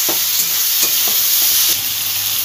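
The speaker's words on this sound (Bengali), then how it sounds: "এবার এটা যতক্ষণ না টমেটোর কাঁচা গন্ধ যাবে ততক্ষণ তেলে এটা ভালোভাবে ভেজে দিতে হবে।" Chopped tomatoes fry in hot oil with a loud, steady sizzle close by, while a spoon stirs and scrapes the pan in soft, repeated strokes.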